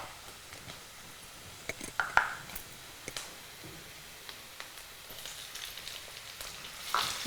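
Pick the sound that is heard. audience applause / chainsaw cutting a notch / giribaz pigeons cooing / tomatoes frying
tomatoes frying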